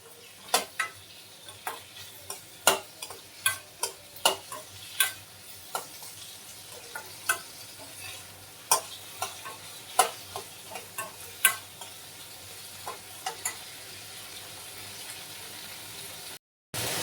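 Ridge gourd peel frying in a pan, with a low constant sizzle under frequent sharp ticks and pops from stirring, close and fairly quiet, ending abruptly.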